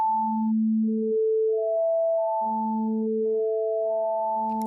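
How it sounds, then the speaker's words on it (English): Four steady sine tones from a SynthMaster 3 synthesizer at different pitches, entering one after another and overlapping as pure, sustained electronic notes with no other sound. "So we have 4 sine waves, but at 4 different integers."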